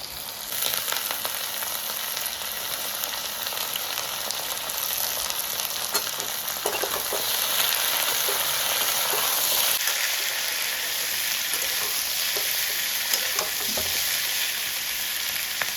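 Cut eggplant frying in a pan, with a steady loud hiss of sizzling oil and occasional stirring scrapes running throughout, close up and with no talk.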